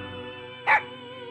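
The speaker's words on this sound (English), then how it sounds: "The dog's cool, though." A single short dog bark in the Persona Q: Shadow of the Labyrinth video game, sharp and clear against a quiet background music bed.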